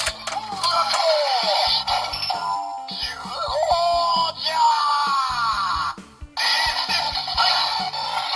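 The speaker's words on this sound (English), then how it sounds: "When you keep clicking the trigger, it just gives you the nice eagle screech from Zyuohger" A Don Blaster toy from Zyuohger plays its loud electronic eagle screech repeatedly as the trigger is clicked, the shrill cries layered over synthetic musical tones in bursts.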